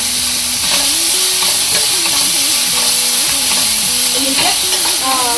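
Onion and tomato frying in a pan with a little salt added, a steady close sizzle and hiss with stirring scrapes, under a faint tonal hum and no talk.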